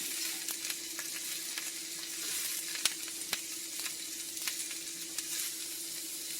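Protein, shiitake mushrooms and a stir-fry vegetable blend sizzle in an oiled pan for a mu shu bowl, a soft steady hiss with occasional sharp pops and crackles, heard alone.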